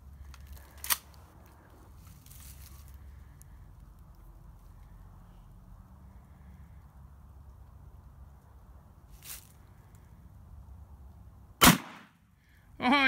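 One sharp gunshot from a Mossberg 510 Mini rifle outdoors near the end, preceded by a couple of small clicks and handling knocks over faint background noise.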